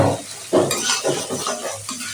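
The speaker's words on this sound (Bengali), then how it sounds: "এটা অনেকটা কষানো হয়ে গেছে, আর 2 সেকেন্ডের মতন কষবে।" Egg masala fries in a pan while a spatula stirs it, a close steady sizzle broken by rhythmic scraping strokes every fraction of a second, with no talking.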